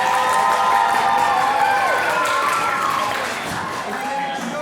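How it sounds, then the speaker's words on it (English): An improv comedy showcase audience clapping and cheering to vote, a dense, loud wash of applause with crowd voices that tapers slightly toward the end. "clap and applaud now."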